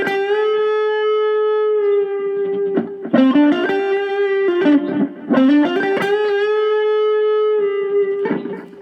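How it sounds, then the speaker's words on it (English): Three-string cigar box guitar through a Roland Micro Cube GX amp with delay, playing a short lick: sustained distorted notes, then quick runs with echoing repeats, loud and close, no talk. "Delay, we'll do a little lick."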